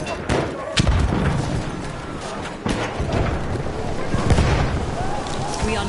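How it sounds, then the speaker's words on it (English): Grenade and battle blasts in a WW1 combat video game, loud booming explosions and rumbling gunfire in a chaotic continuous mix, with voices shouting underneath. "Throwing grenade! Watch it!"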